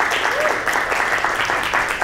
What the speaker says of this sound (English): Let's give them a quick round of applause real quick